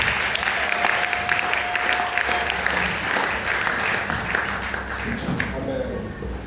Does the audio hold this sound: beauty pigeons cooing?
no